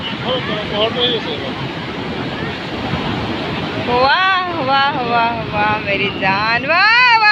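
Ocean surf rumbles and washes in steadily on a beach at night at Puri, with a voice talking over the waves in the latter half.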